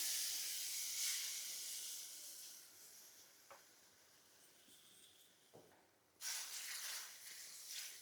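Masala gravy hitting hot oil, giving a loud hissing sizzle that fades down, then flares up again sharply near the end, with no talking.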